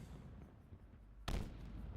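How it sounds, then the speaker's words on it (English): A crate explodes in a Metroid-style sand level being built in a video game: a single sudden, loud blast cuts in after quiet low rumble and leaves a lingering roar. "the one-shot explosions, constantly just explode over and over again"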